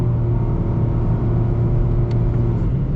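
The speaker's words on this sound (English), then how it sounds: "it's not full throttle, but that's pretty deep into the throttle." A 2024 Nissan Ariya electric SUV accelerating deep into the throttle, heard from the cabin as a steady loud low rumble and road roar with a faint whine, with a brief chirp partway through and no talk.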